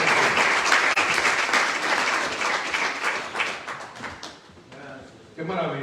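A church congregation breaks into sustained, loud applause, with scattered voices and cheers mixed in. The clapping tapers off near the end before a voice resumes.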